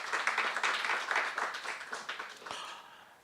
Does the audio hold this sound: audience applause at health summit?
yes